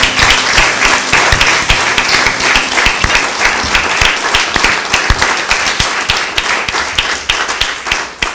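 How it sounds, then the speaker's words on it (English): A room of people applauds Spike and Sarah at a historical society gathering, loud, dense and sustained clapping close by, continuing steadily throughout with no talk over it. "aside from giving Spike and Sarah a big round of applause"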